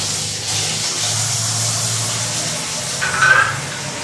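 Tap water runs into a basin for washing dishes, making a steady rushing flow throughout that swells briefly near the end.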